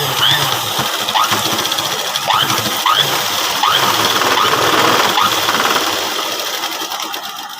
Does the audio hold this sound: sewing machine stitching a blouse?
yes